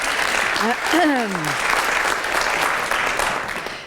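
Audience applause fills a chapel at Macalester College before a public radio broadcast, a steady dense wash of clapping throughout with a brief voice-like tone early on.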